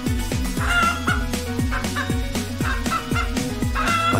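Chicken clucking sound effect for a Play-Doh toy chicken: a loud, steady run of rhythmic clucks that repeat roughly every half second over a tonal, musical bed, with no talking.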